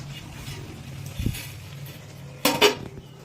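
A metal lid set onto a cooking pot of cabbage with fish head on a gas stove, a soft low knock followed a moment later by a bright clattering clink of metal on metal.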